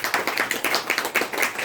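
A seminar audience claps in a quick, continuous patter of many hands, fairly loud and close, with no talking over it.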